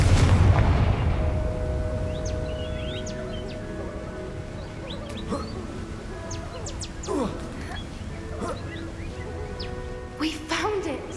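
A fiery Confringo spell blast in Hogwarts Legacy lands as a loud, low boom at the very start, then fades into quiet outdoor ambience with scattered birdsong and occasional voices.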